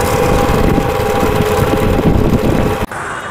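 A motorbike engine running close by on a short ride to a nearby temple, a loud, steady, buzzing rumble that drops away abruptly near the end.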